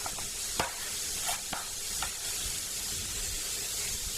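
Oyster mushrooms frying in butter in a pan, with a constant soft sizzle broken by several quick scraping stirs, heard up close with no voices.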